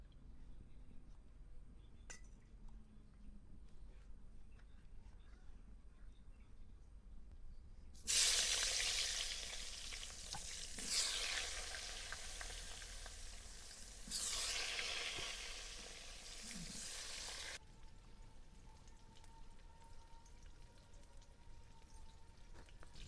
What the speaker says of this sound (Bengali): এবার বেগুনগুলোকে ভেজে নেব